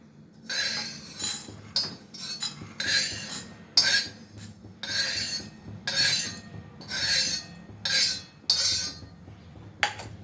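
Roasted coriander and cumin seeds are scraped and tipped from a pan onto a plate in a string of scratchy, rattling bursts with brief metallic clinks, close and fairly quiet, with no talking.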